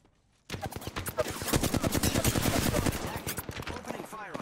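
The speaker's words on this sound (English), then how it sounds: "Opening fire on the enemy." Rapid automatic gunfire from a firefight in the battle-royale game Apex Legends, dense bursts of shots rattling loudly and continuously after a brief quiet start.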